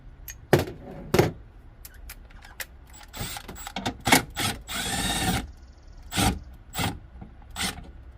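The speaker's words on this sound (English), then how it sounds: "So we're gonna take off the 10mm nut here." Ratchet removing a 10mm nut at the battery of a BMW X5 E70, close clicks and short metallic bursts with knocks and shuffling in between.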